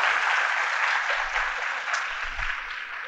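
Audience at an Onam celebration in a medical college hall clapping, a steady wash of applause that fades slightly, with a few low thumps underneath.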